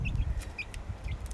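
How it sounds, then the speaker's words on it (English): Baby chicks chirping softly in a farm brooder among young food birds, high thin peeps in several short bursts over a low rumbling background, with no talking. "let's go talk about these baby chicks real quick"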